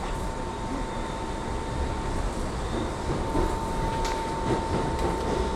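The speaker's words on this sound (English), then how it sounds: "Subway is moving" A moving subway train gives a steady, loud rumble with a constant high whine and occasional rattling clacks, heard from inside without talk.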